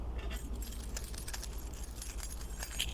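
Metal keys jangle and clink in an irregular, continuous rattle, close and fairly loud over a low rumbling background, with no voices.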